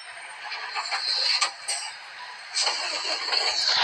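An engine cranks and starts in a city driving video game, a brief mid-pitched rumble with a couple of sharp catches before settling toward idle, fairly quiet and without speech.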